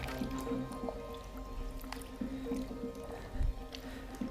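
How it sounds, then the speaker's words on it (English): Cotton fabric stirred and agitated by gloved hands in a bath of liquid dye gives soft, faint wet squishes and drips, steady and low throughout. "just kind of stirring around and agitating it and moving it from the top to the bottom"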